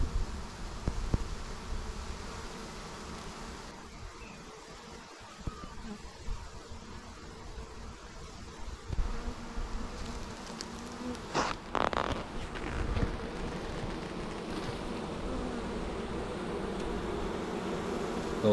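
A small, queenless honey bee swarm drones with a steady, dense buzzing that continues throughout, with some handling bumps and rustles in the middle.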